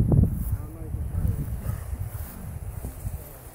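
Gusty wind outdoors in Starkey Wilderness State Park, a steady low buffeting roar against the microphone that rises and falls over a few seconds, with rustling underneath.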